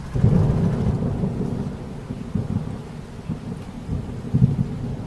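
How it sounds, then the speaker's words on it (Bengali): Deep, rolling thunder rumbles over steady heavy rain in a storm, with louder booming swells near the start and end, in a cartoon. No voices. "মুষলধারা বৃষ্টির আর ঝড়ের দাপটে সামনে এগোনো বড়ই মুশকিল।"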